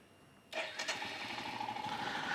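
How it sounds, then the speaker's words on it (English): A 2021 Royal Enfield Himalayan motorcycle engine cranks and fires with no throttle, catching after half a second of quiet and settling into a steady, moderately loud idle with a slight rising whine. "when you start the Royal Enfield Himalayan, you give it no throttle whatsoever at all"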